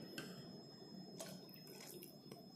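Water trickles and drips into rava dosa batter in a home kitchen, soft and close, with a few brief splashy pours and no talk.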